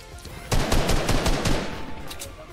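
Gunfire from a 2v2 Fortnite Zone Wars match: a close, loud string of rapid shots in quick bursts, each with a short echo, fading slightly toward the end.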